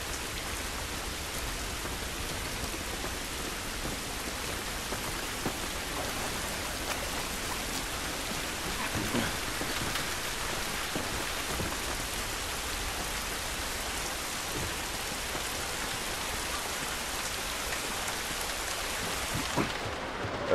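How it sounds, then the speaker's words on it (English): Steady rain pours down throughout in the video game The Last of Us Remastered, a dense continuous hiss with scattered droplet patter and no voices. "It's raining"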